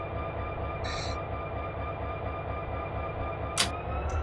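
Simulated CSX SD40-2 diesel locomotive in Run 8 Train Simulator pulling away on the CSX A-Line: a steady, rumbling engine drone with a pulsing low throb, a brief high tone near the start and a sharp clank toward the end.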